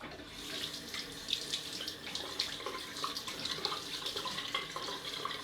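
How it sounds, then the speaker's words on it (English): Water runs from a tap into a sink for a rinse during a straight razor shave, a steady, close rushing splash that holds evenly throughout. "And I'll just rinse off."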